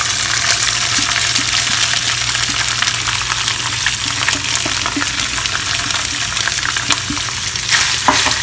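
Thinly chopped paneer sizzles and crackles in a hot pan for pulao, a loud, continuous frying hiss up close with occasional stirring clinks and no talking.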